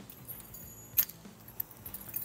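Keys for a 2020 Fuso Super Great FV-R 6x4 truck jangle briefly, one sharp metallic shake followed by a few lighter clinks, close and fairly quiet.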